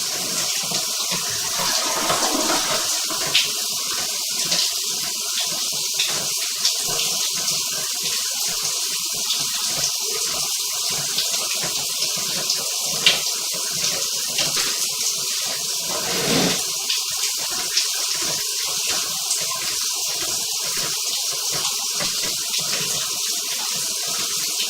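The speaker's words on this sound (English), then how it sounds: "We're going to flush the toilet also one time here." Steady rush of water flowing through a sewer line from a house's bathtub drain and toilet flush, a continuous hiss and gurgle with no talk.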